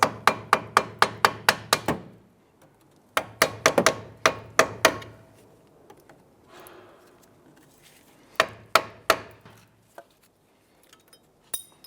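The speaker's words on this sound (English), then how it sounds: "Just going to use our flathead screwdriver and just tap that clip." Flathead screwdriver tapping a brake hose retaining clip on a 2008-2013 Nissan Rogue: three quick runs of sharp metallic taps, close and crisp, with quiet gaps between the bursts.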